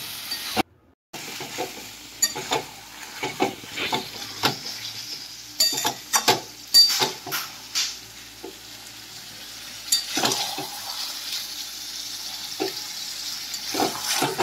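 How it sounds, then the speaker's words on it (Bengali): Chicken pieces for dopyaza are stirred and fried in a pan, giving a steady sizzle broken by repeated spatula scrapes and clinks that come in bursts. "এবার এইভাবে মাংসের টুকরোগুলো দিয়ে ভালো করে কষিয়ে নেব।"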